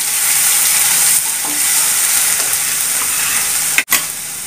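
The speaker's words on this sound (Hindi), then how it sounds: "अब लहसुन डाल देते हैं क्रश किया हुआ।" Crushed garlic added to hot oil for a dal tadka, with mustard seeds, bay leaf and red chilli already in the pan, sizzling loudly and steadily, then a brief stir or clink near the end.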